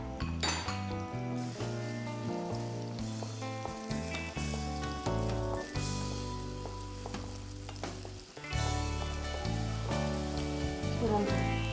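Two chopped onions hiss and crackle in hot oil for a spicy chicken fry, a steady frying sizzle beneath loud background music.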